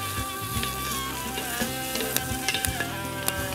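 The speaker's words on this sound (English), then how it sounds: "Why they call it stir fry. Keep it moving." Food stir-frying in a wok over hot coals, a steady dense sizzle with scattered crackles and pops as the ingredients are kept moving.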